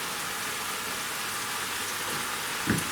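Onions sizzling in a hot pan for venison steak sandwiches, a steady faint hiss of frying throughout, with a small thump near the end.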